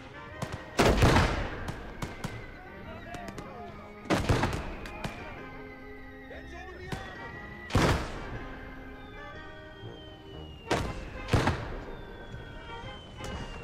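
Mortar blasts and gunfire in the World War II game Gates of Hell, four heavy booming impacts spaced a few seconds apart, each with a rolling tail, and scattered distant shots between them.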